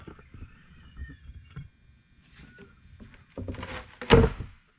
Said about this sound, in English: Here I'm using a chisel just to get some leverage, and then I'll pop it right up